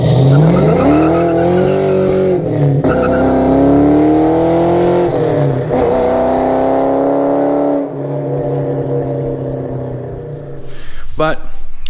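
An all-original Foxbody Mustang with a Magnaflow exhaust revs loudly and close, the engine note climbing and falling through several sweeps with a brief drop near the end, while someone talks over it.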